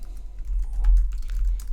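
Typing on a computer keyboard in Photoshop, a short run of close, light key clicks in an irregular rhythm over a low background hum, with no voices.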